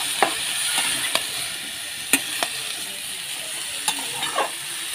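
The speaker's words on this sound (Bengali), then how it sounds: "সবজিগুলো সব দিয়ে দিচ্ছি। ভালো করে কষিয়ে সেদ্ধ করে নেব।" Mixed vegetables for vegetable chops sizzle steadily in a frying pan, with sharp scraping stirs of a spatula cutting through the constant hiss at irregular intervals.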